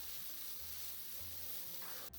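Cauliflower (gobi) and masala sizzle steadily in a pan over a low flame, a close continuous frying hiss with faint stirring scrapes throughout.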